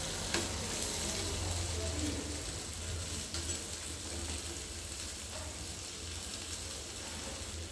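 Chutney for a fasting thali cooks in a pan with a soft, continuous sizzle and faint stirring scrapes, low and steady throughout with no talking.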